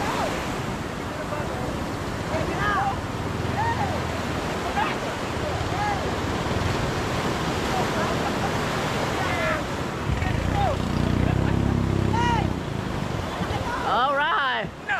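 Big ocean waves surge and crash in a steady, loud roar mixed with wind buffeting the microphone, continuous throughout, while people talk over it.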